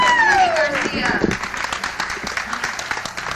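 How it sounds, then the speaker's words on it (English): Applause for boxer Jenny Garcia after a bout at the 2003 women's boxing championships in Southern California, a broad patter of crowd clapping that rises as an announcer's voice fades and continues steadily to the end. "Round of applause for Jenny Garcia."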